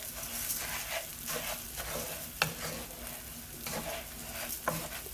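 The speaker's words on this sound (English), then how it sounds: "put the rice in there, or AKA risotto, in here. Then I'm gonna let it kind of cook off like this a bit" Rice for saffron risotto sizzles steadily in hot oil in a pan, with a continuous frying hiss, occasional scraping stirs and a couple of sharp clinks close by, no talk.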